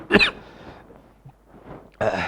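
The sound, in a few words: coughing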